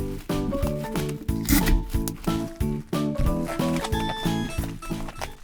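Packing tape rips and is pressed down over large bubble wrap wrapped around a glass item, giving close, crackly pulls over steady background music.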